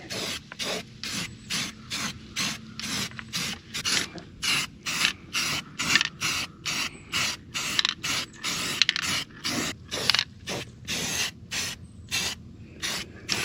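Repeated bursts of hissing spray paint in short, rhythmic pulses, close by, applied to a 1977 Trans Am's air dam, with brief gaps between each spray and no talking.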